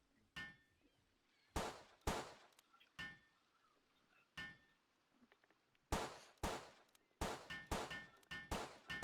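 Gunfire in Palworld heard while mining, a series of sharp metallic bangs and clangs at irregular intervals, some in quick clusters, with quiet gaps between them.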